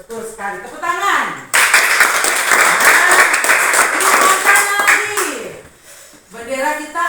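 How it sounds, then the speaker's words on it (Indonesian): Children applaud in a classroom during a lesson on the Indonesian flag. A burst of loud, dense clapping runs for about four seconds, with a teacher's voice talking just before and after. "Tepuk tangan."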